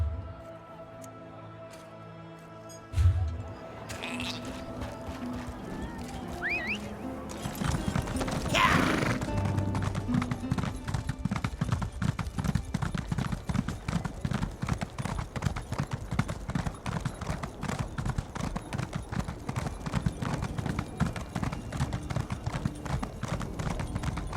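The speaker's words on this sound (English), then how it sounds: "The horses are ready." Horse hooves clip-clop steadily in the Elder Scrolls Online game, a fast even rhythm of hoofbeats that starts after a few seconds of quieter ambience, with a brief neigh and a little background voice.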